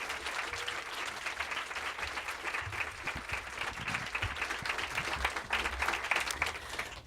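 An audience applauds steadily to welcome poet Elizabeth Alexander at an arts event, dense clapping from many hands sustained for several seconds without any voice over it.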